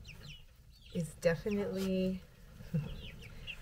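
Backyard hens cluck and call in short bursts close by, with someone talking over them.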